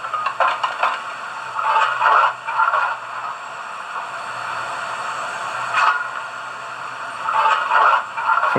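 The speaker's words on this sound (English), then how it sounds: "Function 6 is coal shoveling sounds." Coal shoveling sound effect from the decoder of a Hornby OO gauge BR blue Merchant Navy model locomotive: repeated gritty scrapes and scoops in irregular bursts over a constant steamy hiss.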